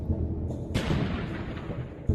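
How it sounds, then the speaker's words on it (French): A small explosion set off near Vesuvius for seismic imaging of the volcano gives a sudden deep blast with a long rumbling decay over low background noise, and a second thud comes at the end. "Ils déclenchent de petites explosions à différents endroits autour du volcan."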